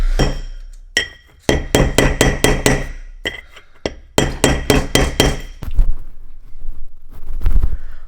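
A new pilot bearing is tapped into the crankshaft of a turbo Mazda Miata with sharp metallic hammer strikes, fired off in quick bursts of several ringing clinks separated by brief pauses, close and loud.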